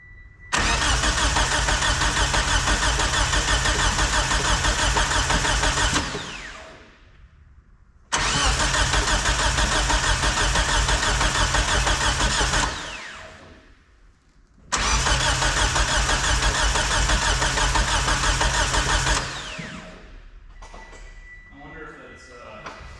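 Mitsubishi Eclipse engine running with a misaligned power steering pump belt, a steady loud mechanical roar in three long bursts, each cutting off abruptly before the next starts, with a quieter idle-like tail at the end.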